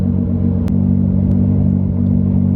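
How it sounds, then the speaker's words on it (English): A car with a Power House Racing exhaust idles in a garage with a deep, loud, throbbing exhaust rumble, steady and close, with a couple of brief clicks. "Just sitting in the garage idling."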